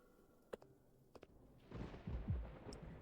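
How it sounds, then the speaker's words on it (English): Thunder in the LADS video game: after a couple of faint thuds, a low rumbling roll swells up and lingers, distant and fairly quiet, with no voices. "thunder roars from outside."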